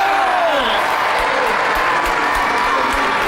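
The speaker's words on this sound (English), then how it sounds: "Crowd don't like it." A studio crowd at a robot combat show reacts to a judges' decision with loud sustained cheers, jeers and applause, with a commentator talking over the roar.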